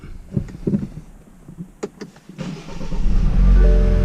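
A BMW car engine starts up after some clicks and clunks, cranking into a loud, steady idle that carries through the end, close by.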